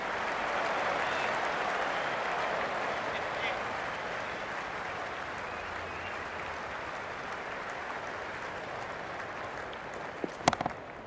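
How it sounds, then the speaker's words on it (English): A stadium crowd in the cricket video game Cricket 26 applauds and cheers a boundary four, a steady, dense wash of clapping and roar that holds for the whole stretch before a few sharp clicks near the end. "The crowd love that one."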